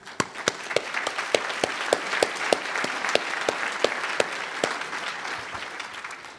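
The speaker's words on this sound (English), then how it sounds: "acknowledge the non-governmental organizations for contributing to that nature fund and to the creation of new protected areas in this country with an applause" Audience at an event on nature-based climate solutions and Indigenous-led conservation applauding, with steady sustained clapping from a sizable crowd and a few sharper claps standing out near the front.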